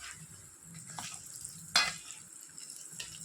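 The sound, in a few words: stirring mango pickle spice mix in oil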